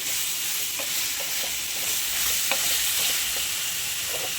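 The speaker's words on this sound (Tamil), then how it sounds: "இது ஃப்ளேம் வந்து நல்லா சிம்மில் வச்சுட்டு இதை நல்லா கிளறி விட்டுடலாம்" Prawn gravy simmers in a pan over low flame, a steady bright sizzle with soft, irregular stirring scrapes on top, close and even throughout.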